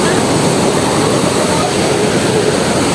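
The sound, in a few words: big ocean waves with a large boat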